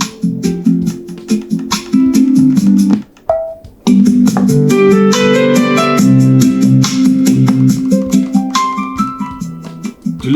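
Music from a phone streams through a compact SKIL 12V Bluetooth speaker, full and rich even at lowered volume, with a steady melodic accompaniment and a brief pause near the three-second mark.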